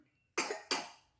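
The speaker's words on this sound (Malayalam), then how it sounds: "കഫക്കെട്ടും ഉണ്ട്, ചുമയും ഉണ്ട്." A child with a fever and chest congestion coughs twice in quick succession, close and fairly quiet, with silence before and after.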